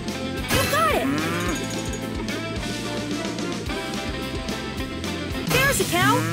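A cartoon cow moos in a Paw Patrol video game, two drawn-out moos at the start and end over bright game music, with cheerful voices talking between them.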